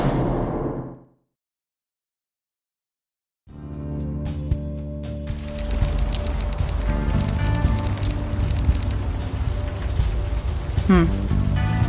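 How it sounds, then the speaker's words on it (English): Steady video-game rain patters and hisses continuously after a brief stretch of silence, with a few scattered clicks and rustles, in the game Unavowed. "Still raining."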